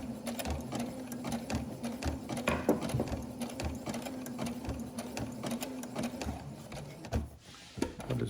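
A slow sewing machine stitches a repair on old underwear with a steady mechanical whir and rapid needle clatter, close and fairly quiet, with a brief pause near the end.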